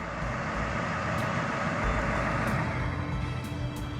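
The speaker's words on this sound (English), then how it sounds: "Can you shut your truck off?" A truck engine idles with a loud, steady low rumble close by, joined by faint high periodic beeps.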